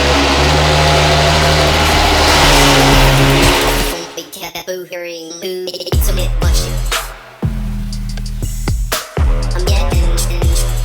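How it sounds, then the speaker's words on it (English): A Ferrari GTC4 Lusso V12 with modified exhaust, starting with a loud sustained roar that cuts off, then short sharp revs and blips in bursts, with a voice talking briefly. "the GTC4 Lusso V12. I'm still shocked by what this thing sounds like."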